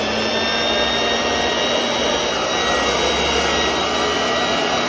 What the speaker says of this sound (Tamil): மிஷின் ஓட்டி காமிக்கிறேன்